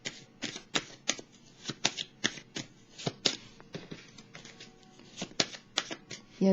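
A tarot card is drawn from a deck and laid down, heard as a quick, close run of soft papery flicks and taps, irregular and fairly quiet.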